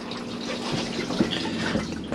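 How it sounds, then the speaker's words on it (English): A cassette toilet in a Bessacarr 596 motorhome flushes with a steady, close rush of running water and small splashy bursts, with no talking. "You can now use the toilet. Give it a good flush after use."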